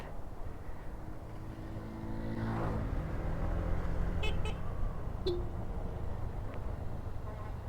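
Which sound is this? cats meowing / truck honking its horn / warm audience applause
truck honking its horn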